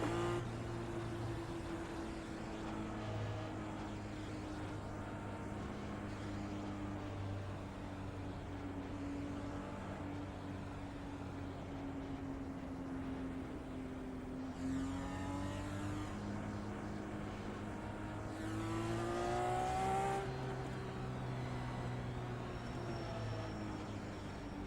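IndyCar race cars at the Fontana oval in iRacing, a steady loud engine drone with rising and falling pitch sweeps as cars pass close by, continuous throughout without talk.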